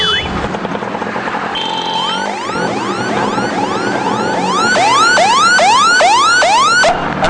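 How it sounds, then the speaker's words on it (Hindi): A loud bus pressure horn sounds in a rapid series of rising, wailing musical blasts that repeat and grow stronger toward the end, piercing and continuous with no talking. "बसेस में जो प्रेशर हॉर्न यूज़ किए जाते हैं जो कि बहुत तेज़ आवाज़ में होता है"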